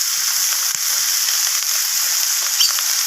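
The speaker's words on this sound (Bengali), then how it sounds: "সমস্ত কিছুকে এইভাবে নাড়াচাড়া করে ভেজে নিচ্ছি" Pumpkin greens with fish roe and turmeric and red chili powder fry in a pan, giving a steady high hiss and sizzle with faint soft stirring knocks underneath and no voices.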